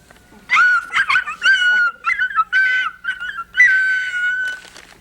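A dog, the cartoon hero Super Dog, yips, barks and whimpers in a string of short, high, close bursts with brief gaps between them.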